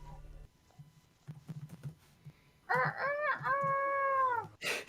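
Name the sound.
chickens crowing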